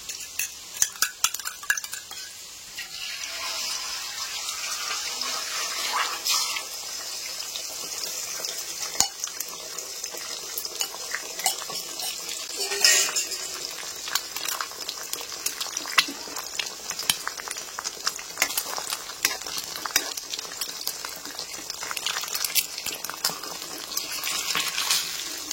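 Beaten eggs hitting hot oil in a pan for street-style egg fried rice, a steady broadband sizzle with scattered clinks and scraping of a utensil, fairly close and continuous with no talking.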